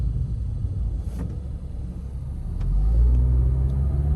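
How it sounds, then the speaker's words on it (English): A 2012 Scion tC four-cylinder engine hums steadily and then swells into a deeper, louder rumble as it accelerates, heard from inside the vehicle. "you can still hear the engine for a 4-cylinder"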